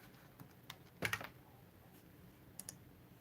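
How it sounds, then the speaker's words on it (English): Quiet keyboard typing: scattered key taps with a short burst of quick clicks in the middle, close and faint. "I'm typing it in myself right now."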